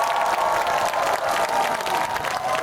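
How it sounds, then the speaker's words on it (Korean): A concert crowd at a Korean outdoor music festival applauds and cheers steadily, a dense wash of clapping and shouting that continues without a break. "다 같이 박수와 함성!"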